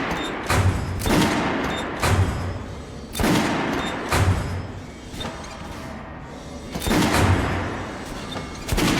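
Repeated volleys of loud gunfire from a firing squad in the video game Metro Last Light Redux, broadband blasts roughly every second with echoing tails over a rumbling background, no talk.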